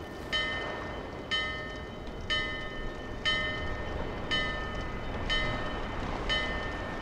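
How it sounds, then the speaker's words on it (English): A bell in the dark setting of Dark Souls 2 rings about seven times at a steady, slow pace, each bright metallic strike ringing out briefly over a low rumbling background. "Oh, it rings a bell."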